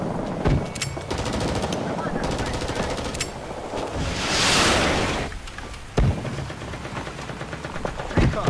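Machine gun firing in the Vietnam War shooter Rising Storm 2: Vietnam, with sustained rapid bursts close and loud, mixed with sharp single shots and a swelling rush of noise midway, while voices shout over the fire.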